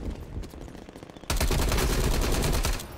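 An MP5 fires in the video game Call of Duty: Cold War, a loud sustained automatic burst that cuts in abruptly midway after quieter scattered shots and background noise.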